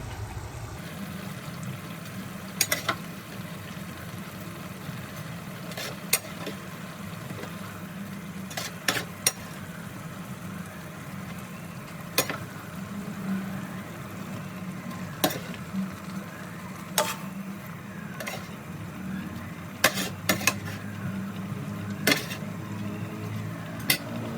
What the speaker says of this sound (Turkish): yavaşça karıştırıyorum patlıcanlarım çok yıpranmadan